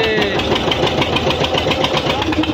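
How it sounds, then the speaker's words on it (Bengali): A fishing boat's engine runs steadily on the Matla River just after starting, a close, loud, rhythmic knocking chug that holds without pause for the whole short stretch. "এই যে উঠছে স্টার্ট"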